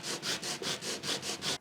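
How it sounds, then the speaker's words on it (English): A wooden guitar bridge is sanded down to bare wood, giving eight close, even back-and-forth rasping strokes in a steady rhythm. "For the bridge, I'm not going to bother scraping, I'm just going to go straight to sanding."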